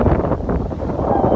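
Outdoor wind buffets a phone tripod and its microphone, producing a loud, continuous low rumble with gusty fluctuations over a short stretch.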